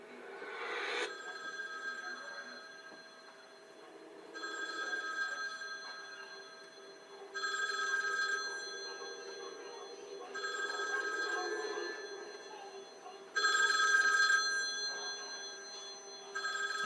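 A telephone bell rings in repeated bursts about every three seconds, with a steady ringing tone between bursts, faint and somewhat distant in a quiet room.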